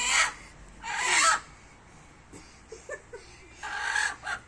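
A chicken clucks and squawks while it is being tied up, with a few loud agitated bursts and quieter rustling in between.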